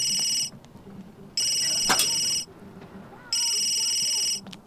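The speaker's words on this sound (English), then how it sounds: "Why is my phone always ringing?" A phone rings in The Sims game, three bursts of a bright electronic trill separated by short gaps, loud and close, with a brief sharp tone in the middle and faint game sounds underneath.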